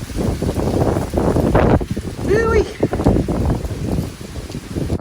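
Strong wind gust during Hurricane Ian in Tampa, Florida: a loud, sustained roar buffeting the microphone for several seconds, with voices and rustling audible beneath.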